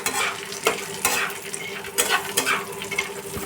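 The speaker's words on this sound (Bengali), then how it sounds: "পুড়িয়ে ভাজবো না, হালকা আমি ভেজে নিচ্ছি।" Nuts are stirred and lightly dry-fried in a pan, giving a steady close sizzle broken by repeated scraping and clattering strokes of the spoon.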